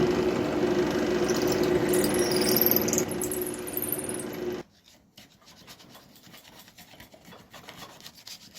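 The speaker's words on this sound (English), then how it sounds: "I'll drill in my tang slot, broach it out" A wooden knife handle block is drilled for a hidden tang slot, giving a steady grinding, rasping whir for several seconds before it stops abruptly, leaving faint scraping and quiet room noise.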